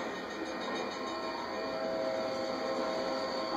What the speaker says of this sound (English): Oh, the train may pass this time. Mind the train.